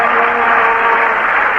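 San Francisco Giants fans cheering at a baseball game against the Phillies, a steady, dense crowd roar heard over a radio broadcast, loud and unbroken for a brief moment.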